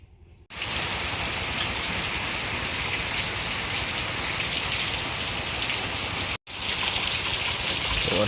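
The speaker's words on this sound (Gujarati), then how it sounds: "વરસાદ ચાલુ થઈ ગયો, વરસાદ।" Steady rain falls on a surface, a dense even hiss of drops that runs almost unbroken for several seconds, with a brief dropout near the end and no voices.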